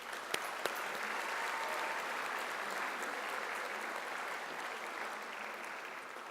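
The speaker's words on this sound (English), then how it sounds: "I would like you all to give a round of applause for those people who have supported you" Sustained applause from a graduation ceremony audience at a London South Bank University engineering school event fills the hall, steady and dense throughout with a couple of sharper claps near the start.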